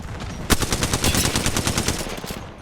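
Rapid automatic gunfire from Apex Legends in a 9v9 match, dense continuous bursts of closely spaced shots that open with a sharp crack and keep firing loud and close for the whole stretch.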